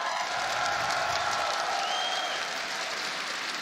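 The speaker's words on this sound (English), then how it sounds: "I think that deserves a round of applause for Benjamaster." Steady applause from a large crowd at the Rainbow Six Siege Six Invitational 2023 esports finals, a dense continuous wash of clapping heard at some distance.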